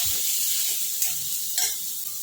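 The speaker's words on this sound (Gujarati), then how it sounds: "હવે કેપ્સિકમ ને ડુંગળીને સારી રીતે શેકા દઈશું" Finely chopped onion and capsicum fry in a pan for a moong dal pulao, giving a steady, close sizzle with a couple of soft stirring scrapes and no talk over it.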